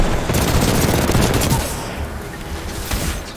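Rapid automatic fire from a fast-shooting gun in Titanfall 2, a dense continuous rattle that is loudest early and then eases slightly while still going, with a voice faintly under it.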